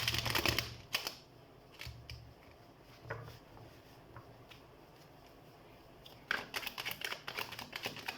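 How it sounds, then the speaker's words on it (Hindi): A deck of tarot cards being shuffled by hand for a weekly reading, with crisp riffling bursts at the start and again toward the end and scattered soft card slaps between, close and fairly quiet, no talking. "तो हम सबसे पहले कार्ड शफल कर लेते हैं।"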